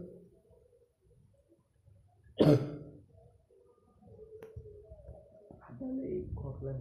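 A single harsh cough or throat-clear from a man with a bad chest cough, sudden and fairly close against a quiet room, followed by soft indistinct voices and background sounds.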